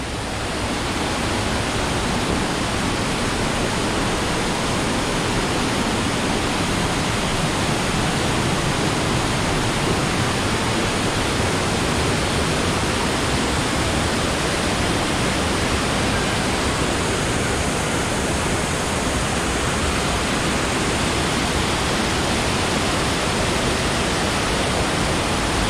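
Waterfall in Sapadere Canyon near Alanya, Antalya, a steady, loud, broad rush of falling water that roars without a break, close by and unchanging throughout.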